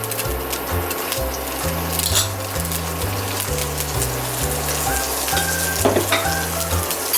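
Sambal paste frying in a hot wok, a loud continuous sizzle and crackle with stirring, alongside a steady rhythmic low musical pattern underneath.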